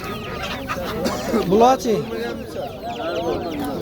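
Hens and roosters cluck and squawk at an outdoor poultry market, close by and continuous, with a louder burst of calls in the middle, under the voices of people talking and bargaining.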